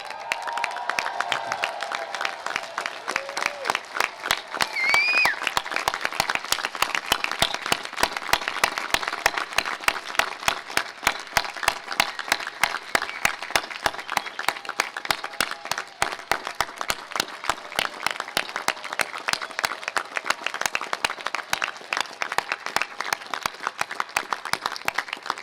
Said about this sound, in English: can you stand up and give them a real round of applause that's loud